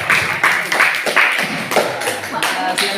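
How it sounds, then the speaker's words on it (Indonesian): Classroom students clapping hands at the end of a lesson, a few bursts of irregular claps with some voices mixed in, close and moderately loud. "silakan tepuk tangan"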